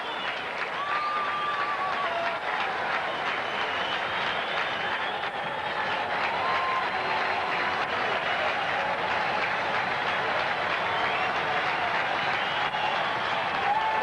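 Baseball crowd at a Red Sox at A's game cheering and applauding steadily during a two-strike count, a dense continuous roar with occasional whistles, filling the whole stretch without speech on top.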